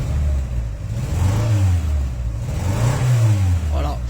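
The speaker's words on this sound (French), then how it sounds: "le véhicule tourne mal sur deux pattes puisqu'on a les deux cylindres, cylindre 4 et cylindre 1 en défaut" A 16-valve car engine runs rough with misfires on cylinders 1 and 4 while being accelerated, a loud close uneven revving that rises and falls twice with a stumbling, lumpy beat.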